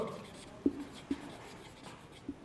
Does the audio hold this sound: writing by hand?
yes